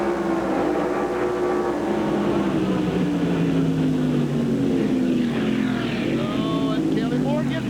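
Stock cars roar away together at the green-flag start of a 1997 Busch North race at Watkins Glen International, a loud sustained engine drone with pitch sweeps, under a commentator's talk.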